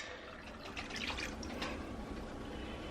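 Water is poured into a cooking pot of black-eyed peas in a home kitchen, a soft, close trickling splash that swells for a couple of seconds then settles into quiet background.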